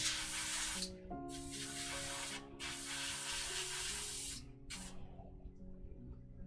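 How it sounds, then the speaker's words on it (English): An airbrush sprays paint in light dusting coats onto a 1/72 resin model kit, several close, soft hissing bursts separated by short pauses, with a faint tonal hum underneath. "At least the airbrush hasn't gummed up yet."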